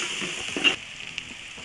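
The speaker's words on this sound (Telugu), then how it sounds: "అల్లం వెల్లుల్లి పేస్ట్ పచ్చివాసన పోయేంత వరకు మనం డీప్ ఫ్రై చేసుకోవాలి" Ginger garlic paste deep frying in hot oil for an egg omelette curry, giving a steady close sizzle with a brief louder crackle near the middle.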